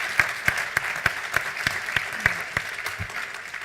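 A lone pair of hands claps about ten times at an even, moderately quick rhythm, each clap sharp and close against a quiet room with light audience murmur.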